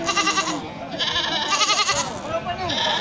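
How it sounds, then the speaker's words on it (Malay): Several female goats bleat close by in overlapping, wavering calls, with a person talking Indonesian in the background. "Ya seperti contoh kambing di depan kita ini."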